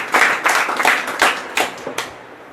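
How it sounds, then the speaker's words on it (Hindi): Several bursts of clapping for a girl named Reema at a school fashion-show event, uneven and fading out, loud and close with no speech over them. "रीमा के लिए जोरदार तालियां"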